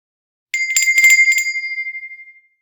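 A small metallic bell strikes a quick cluster of bright rings, then one clear tone lingers and fades away into silence.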